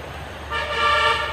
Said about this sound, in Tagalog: may mga busina na ng mga sasakyan